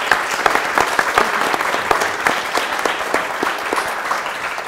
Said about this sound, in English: please join me in giving a round of applause for our esteemed panelists.